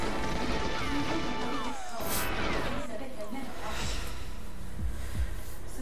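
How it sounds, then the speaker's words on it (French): A crash bursts out in the GoldenEye 007 video game, a short rough boom near the middle over a continuous game soundscape, with someone talking across it. "Tout qui explose encore"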